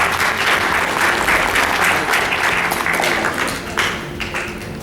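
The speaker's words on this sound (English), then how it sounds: "Clap for them." An audience claps for the top scorers of a law entrance exam, producing a burst of thick, lively applause that fades somewhat toward the end, with a few individual claps standing out.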